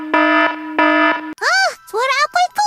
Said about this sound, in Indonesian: Sepertinya suara bel CCTV.